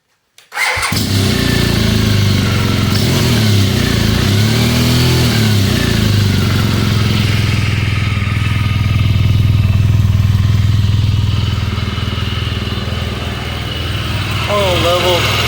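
A 2015 BMW R1200GS motorcycle cold-starts after a brief crank, then settles into a loud, steady idle with a rumbling low drone that continues to the end.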